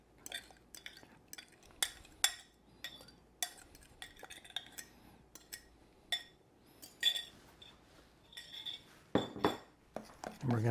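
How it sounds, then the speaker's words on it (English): Metal spoon clinks and scrapes against a glass bowl while stirring a grits and egg mixture for a cheesy sausage breakfast casserole, a busy run of sharp nearby taps and chinks with softer scraping between them. "We're going to give that a good stir and mix that all in really good."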